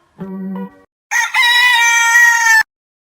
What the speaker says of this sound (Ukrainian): Півень.